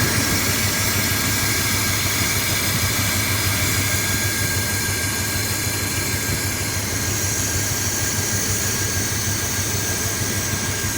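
A 1972 Corvette engine running steadily at idle with cleaner being fed down through the carburetor, a constant dense rumble with a faint whine, close and unbroken, no voices.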